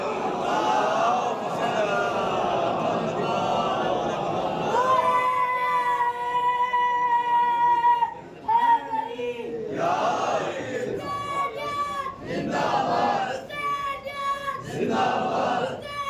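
A large congregation at a Muharram majlis in a Mumbai imambargah recites salawat in unison. The voices rise and fall together as a loud, sustained chorus, with several swelling phrases in a row.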